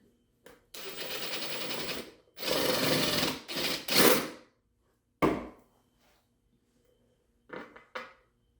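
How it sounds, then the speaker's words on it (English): Bursts of a power drill with a large bit whirring into wood, one long run and several shorter pulses, with brief pauses between them. "So I'm going to use a much bigger drill bit"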